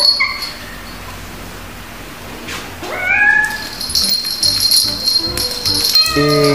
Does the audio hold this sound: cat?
yes